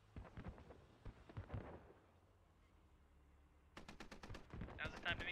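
Rapid bursts of automatic gunfire crackle in the military shooter Squad. The sharp volleys come at the start, then after a quieter gap, and grow louder and denser toward the end.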